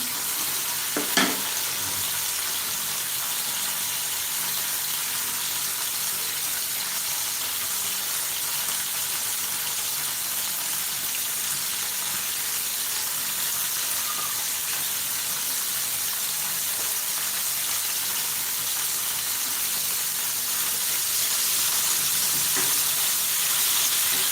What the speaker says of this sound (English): We are just stir frying them.